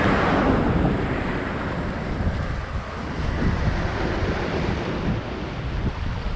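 Ocean waves wash over arranged stones at Kakinada beach, a continuous broad rushing surge with wind buffeting the microphone, loud and steady throughout.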